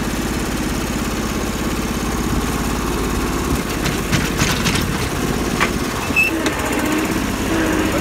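A tractor engine drones continuously with a throaty low rumble, loud and steady, rising briefly with a few clanks and strain partway through while working on a hill.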